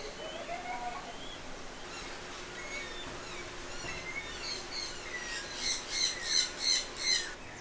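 A colorful bird squawks repeatedly while feeding at Discovery Cove in Orlando, with scattered chirps building into a run of loud, rhythmic squawks near the end.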